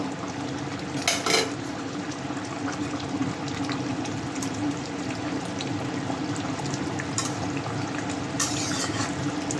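Rohu fish pieces go into a simmering raw pumpkin curry: a steady, bubbling sizzle throughout, with brief louder splashing bursts near the start and end.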